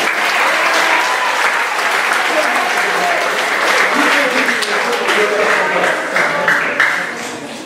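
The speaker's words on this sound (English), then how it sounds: "All right, let's give him a round of applause." Warm, steady applause from an audience at a school presentation, many hands clapping continuously with faint voices underneath, tapering off toward the end.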